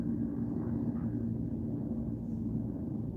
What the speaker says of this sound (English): there's helicopters outside. So it's so noisy.